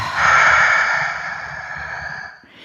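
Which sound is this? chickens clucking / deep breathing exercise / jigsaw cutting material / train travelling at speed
deep breathing exercise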